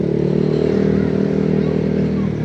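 A Honda PCX 160 motor scooter hums with a steady, close engine drone while riding, with faint background chatter.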